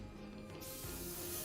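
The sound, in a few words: airbrush spraying a miniature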